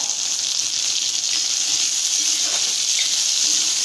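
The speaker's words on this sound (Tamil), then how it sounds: "இப்போ இதை சேர்த்து வதக்கிக்கலாம் ஒரு ரெண்டு மூணு நிமிஷத்துக்கு மிதமான சூட்டிலே சின்ன வெங்காயம் வதங்கட்டும்" Small onions, green chilies and curry leaves sauté in oil over medium heat for a wheat rava tiffin, producing a loud, even, unbroken hiss of frying up close.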